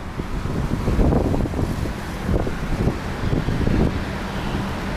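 Strong cold winter wind in Alanya buffets the microphone in steady, gusting rushes that swell and ease over a continuous roar, with no voices present.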